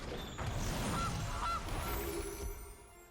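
A goose honk from the Gilded Goose card in a digital card game, two short nasal honks close together over a soft mechanical background hum, with no talking.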